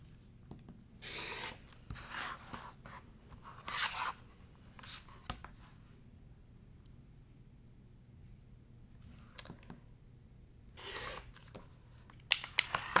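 Fabric is cut along a quilting ruler for a pinwheel block, with several short rasping cutter strokes separated by quiet pauses and a few sharp clicks near the end.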